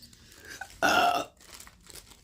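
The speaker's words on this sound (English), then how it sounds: "I just burped" A single loud, close burp erupts after faint room noise and lasts about half a second before fading to quiet background.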